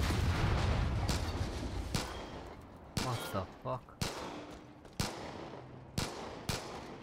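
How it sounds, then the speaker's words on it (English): Gunfire in the open-world shooter Far Cry 5 while shooting at Joseph Seed: a heavy blast rolling off at the start, then sharp, loud shots spaced about once a second, each with a short echoing tail. "Shooting Joseph Seed."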